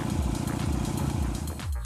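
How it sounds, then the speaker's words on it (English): Moped engine running steadily and loud throughout, a continuous buzzing putter with a slight shift near the end and no talk over it. "Hey, it's my moped."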